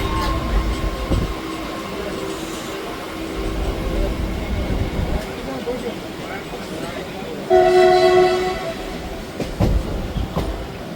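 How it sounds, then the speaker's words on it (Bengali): A Kolkata local train on the Majerhat–Barasat line pulls out of Dum Dum Junction station, carriages rumbling and clattering over the rails with a brief horn-like tone partway through, while people talk faintly aboard. "ট্রেন আমাদের ছেড়ে দিল দমদম জংশন স্টেশন"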